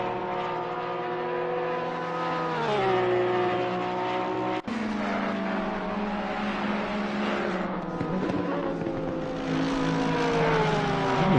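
Mercedes race car engine in Assetto Corsa Competizione at Suzuka, a loud sustained whine rising and falling through gear changes as the car is pushed hard at speed, with a brief cut near the middle.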